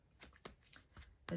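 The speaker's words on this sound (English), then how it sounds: "I wish I shuffled cards really well and very quickly." Playing cards are shuffled in several quick riffles, soft and close, ending in a louder final burst, with no voices heard.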